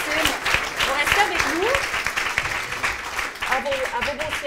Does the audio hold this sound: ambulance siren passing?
no